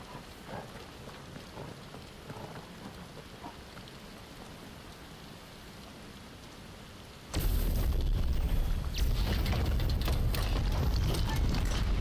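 Rain falls during a fight in the Final Fantasy XVI video game, a steady hiss that suddenly swells into a loud, dense downpour roar partway through, with crackling impacts layered over it.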